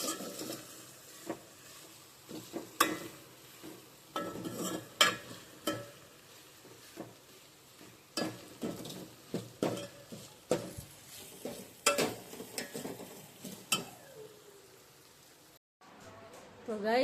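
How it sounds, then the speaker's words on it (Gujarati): Okra stir-fried in a pan in a home kitchen gives a soft steady sizzle, broken by repeated clinks and scrapes of a utensil against the pan, at moderate distance with no talk. "તો ગાઈસ આપણે હવે ભીંડા શેકીએ છીએ."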